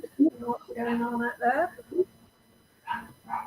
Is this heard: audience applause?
no